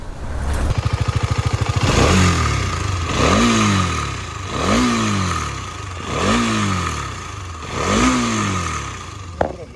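A KTM Duke motorcycle with an engine noise problem, idling with a rapid clatter and then revved in five repeated rising bursts, each falling back, loud and close with no talk.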